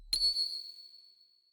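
Single bell struck in Xenogears, a sharp bright ding ringing out clearly and fading slowly into silence over about a second.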